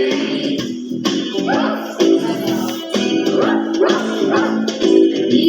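A dog barks repeatedly in a bouncy, rhythmic pattern, likely a sung or voiced imitation over music, with several yipping bow-wow phrases at close range.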